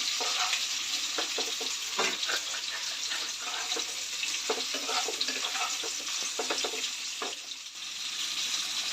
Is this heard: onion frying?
yes